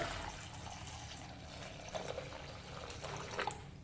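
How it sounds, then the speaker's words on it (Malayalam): About 750 ml of water is poured into a cooking pot, a soft steady trickle and splash heard faintly from close by. "ഇനി ഇതിലേക്ക് നമുക്കൊരു എഴുന്നൂറ്റമ്പത് എം എൽ വെള്ളം ചേർത്ത് കൊടുക്കാം"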